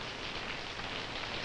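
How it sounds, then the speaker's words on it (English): Steady rain falls in a continuous, even hiss of countless drops, close and fairly loud, with no voices and no thunder. "Nice things about rainy days, too. The rain feels very refreshing."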